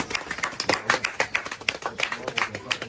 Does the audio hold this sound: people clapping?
yes